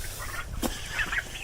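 Turkeys in a pen, three white and three black, giving short throaty calls and chirpy gobbling notes over a rough background hum, close by and moderately loud.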